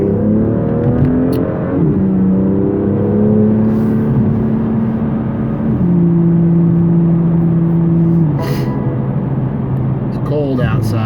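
A BMW M2 fitted with a K&N air filter driving on a cold day, engine droning close inside the cabin with shifting pitch as it accelerates and changes gear, with people talking over it.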